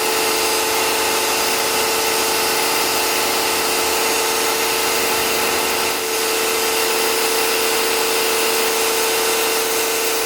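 A portable electric pressure washer runs steadily with a constant broadband whine and hiss, holding even and loud for the whole stretch with no talking.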